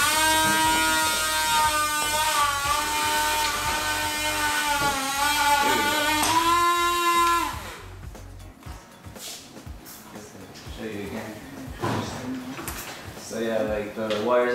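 A small propeller motor on a model maglev vehicle whirs steadily with a buzzing, rising-and-falling tone for several seconds, then cuts out, leaving scattered clicks and handling noise.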